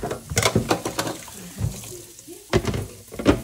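Fresh corn is rinsed under a running kitchen tap, with irregular splashing and spattering water bursts that come close and fairly loud, pausing briefly in the middle before resuming.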